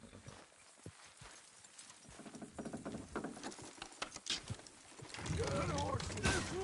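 Hooves clop in an irregular patter in the video game Red Dead Redemption 2, quiet at first and growing louder, with a horse snorting and a voice near the end.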